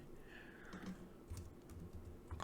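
A file name is typed on a computer keyboard: a short run of soft, quick key clicks, faint and close, over quiet room noise.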